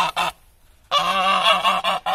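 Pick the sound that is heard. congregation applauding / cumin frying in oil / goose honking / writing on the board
goose honking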